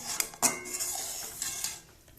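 A spoon mixes rice flour into kheer in a pot, striking the metal with a couple of bright clinks and then scraping softly, close by and without any voices.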